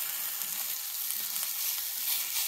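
Takoyaki balls sizzle and fry steadily in a hot takoyaki pan as they are spun and flipped, a continuous close crackling hiss with no talking.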